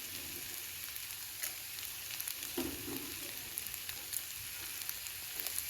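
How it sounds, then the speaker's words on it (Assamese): Onion and ginger fry in hot oil for an egg kurma, a soft, steady sizzle with small crackling pops and an occasional stir, quiet and close. "তেল ওলাই যোৱালৈকে মই ভালদৰে ভাজি ল'ম পিঁয়াজ আৰু আদাখিনি।"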